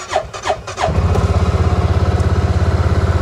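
A Tractor Supply side-by-side engine cranks with a few whining starter pulls, then catches and settles into a loud, steady, pulsing idle close by.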